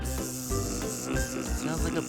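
A person imitates a buzzing bee with a continuous hissy, breathy buzz lasting about two seconds, voiced close and fairly quiet, pulsing slightly as the breath wavers.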